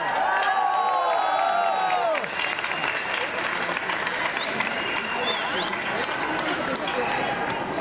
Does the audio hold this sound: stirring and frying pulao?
no